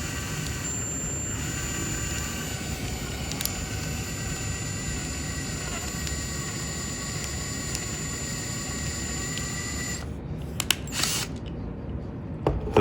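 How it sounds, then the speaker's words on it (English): Electric drill spinning a 3D printed planetary gearbox, a steady whirring mechanical drone with a faint high whine held throughout, then stopping with a few clattering knocks near the end. "I'll hook it up to a drill so it can spin a little faster"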